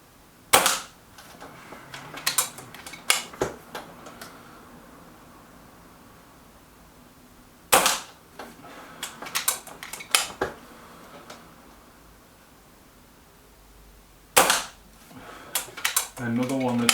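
A Kral NP-03 air rifle fires Hades pellets. Sharp single cracks come a few seconds apart, each followed by quieter clicks and handling noise as the rifle is reloaded, close and fairly loud.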